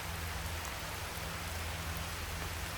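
Steady, even hiss of rain falling, a constant soft wash of drops on surfaces without any break or voices.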